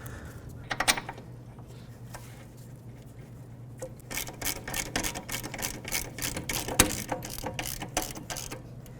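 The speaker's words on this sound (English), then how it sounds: "take your two caliper bolts and start these on so the caliper doesn't fall off" Caliper bolts being threaded and fastened on the rear brake of a 2003-2007 Nissan Murano: a fast run of small metallic ratcheting clicks, close and moderately loud, starting after a quieter pause with a hum underneath.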